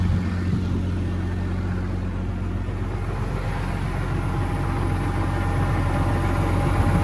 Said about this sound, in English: Yeah, good tractor.